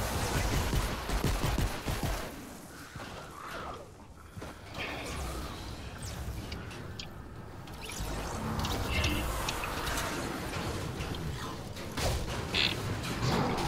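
Continuous gunfire in Fortnite Save the World, rapid repeated shots mixed with whooshes and other action noise, holding a busy, loud level throughout.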